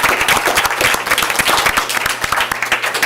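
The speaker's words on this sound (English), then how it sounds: "Let's give her a round of applause." A school board meeting audience claps in a short burst of applause, sharp and fairly close, with individual hand claps audible through the dense patter.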